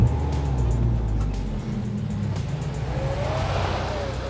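A 2008 Dodge Caliber SRT-4 pulls hard in third gear, its engine note droning and climbing steadily with road and tire noise underneath, loud and close throughout.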